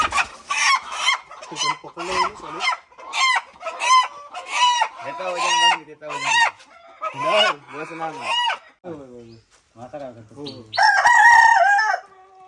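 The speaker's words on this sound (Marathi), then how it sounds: "कोंबड्या अशा म्हणजे इथे बाजूला कोंबड्याचे आहे" Chickens cluck loudly and repeatedly nearby on a farm in the Konkan region of India, with a rooster crowing in between; busy, continuous barnyard noise with no talking.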